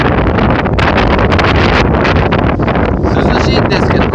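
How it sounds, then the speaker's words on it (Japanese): Strong wind gusting around rice paddies near Sapporonai Station on the Sasshō Line, a remote rural railway station in Hokkaido, roaring loud and constant as a broadband rush buffeting the microphone. "強風がすごいね。"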